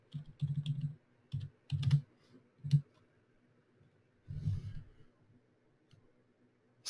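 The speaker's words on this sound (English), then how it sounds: "So I'll type in" Clustered bursts of clacking keys on a computer keyboard come close and clear, with short pauses between flurries and a quiet gap before a final burst.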